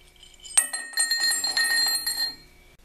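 The aluminum top piece of an O2 cylinder, struck like a bell in a workshop, gives one sharp metallic strike followed by bright, sustained ringing and a few lighter re-strikes, fading out after about two seconds with no talk.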